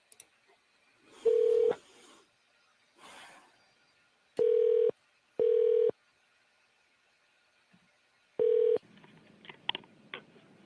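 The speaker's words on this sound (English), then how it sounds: "Hopefully get somebody to answer the phone." Touch-tone keypad beeps sound as someone dials a senator's office by phone, loud and close: single tones and short clusters spread over several seconds, with faint handling noise and a brief sidetone murmur between them.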